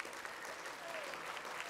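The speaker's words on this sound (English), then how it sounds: "Again, let's give them a big round of applause." Banquet audience applauding award winners at a 4-H awards dinner, a steady, fairly faint wash of many hands clapping from a seated crowd throughout.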